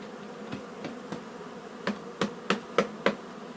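Honeybees buzz around a honey frame being shaken out of a hive, with a low steady drone and a string of sharp knocks that come faster and louder toward the end.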